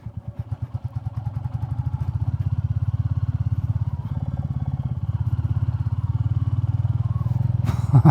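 A brand-new Royal Enfield Classic 350 on street tyres rides a gravel road, its single-cylinder engine thumping in a steady rapid pulse that builds after the first second, close and loud, with a sharp clatter at the end.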